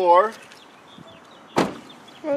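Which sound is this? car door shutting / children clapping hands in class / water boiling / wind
car door shutting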